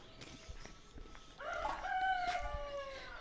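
Chickens cluck softly, then a rooster crows loudly in a drawn-out call nearby, with a few scattered clucks around it.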